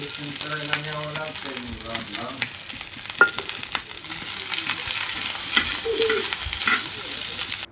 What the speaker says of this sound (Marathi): मी फक्त लसणाची फोडणी देणार आहे